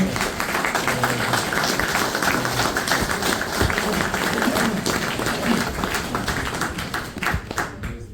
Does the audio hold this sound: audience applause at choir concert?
yes